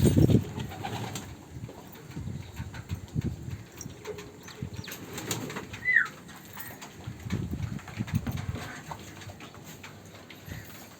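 Pigeons in a pigeon house give soft intermittent cooing and rustling, with low murmurs scattered throughout and a brief clearer call midway, fairly faint against light ambient noise.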